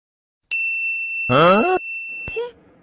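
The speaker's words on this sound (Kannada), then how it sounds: "ಯಾರು ಬಂದ್ರು ಬೆಲ್ ಬೇರೆ ಮಾಡ್ತಿದ್ದಾರೆ" A cartoon doorbell rings with a bright, sustained electronic ding, followed by a second short chime a moment later. A voice speaks briefly between the two rings.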